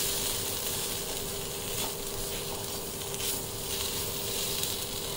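Coriander powder and spices frying and being stirred in a pan, a steady close-up sizzle with scraping stir noises throughout, no voices.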